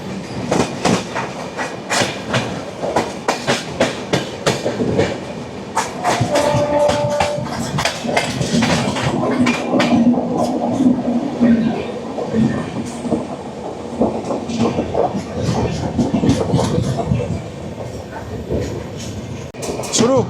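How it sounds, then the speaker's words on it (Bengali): Patna to Khurda Road special passenger train rolling past at close range, a loud continuous rumble with steady clickety-clack of wheels over rail joints throughout, with some voices faintly mixed in. "এটা হচ্ছে পাটনা থেকে খোর্ধা রোড স্পেশাল।"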